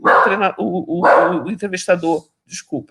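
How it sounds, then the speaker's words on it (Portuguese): A pet dog barks at home in short bursts behind a person speaking close to the microphone, the barks mixed in and partly masked by the voice. "em casa tem o cachorro latindo"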